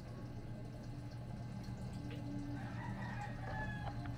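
Chickens cluck and a rooster gives faint crowing calls outdoors, scattered and moderately distant over a steady background hum, with a drip of water here and there.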